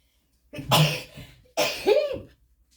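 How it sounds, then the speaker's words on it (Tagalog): Two sharp, close coughs, separated by a short pause, from a cook preparing a crab omelette in a kitchen. "Pasensya na po kayo, tinuubo-ubo ako."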